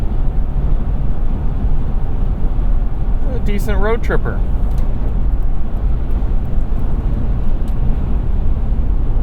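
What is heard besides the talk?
road noise inside 2006 Toyota 4Runner V-8 on highway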